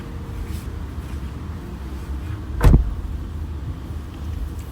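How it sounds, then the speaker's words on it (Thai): A Toyota Alphard Z starts up: a short, low rumbling burst rises midway through a steady cabin hum, then settles back to a quiet idle-like background. "เดี๋ยวเราลองขึ้นไปสตาร์ทรถกันนะครับ"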